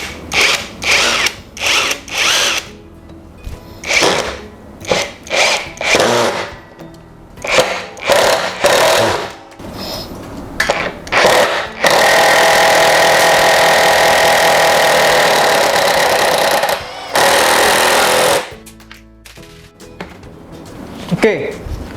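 A Mollar CIDR20351 brushless 20V cordless impact driver hammers loudly and close up, first in short repeated bursts, then in one long continuous rattling run of about six seconds, followed by a few more short bursts.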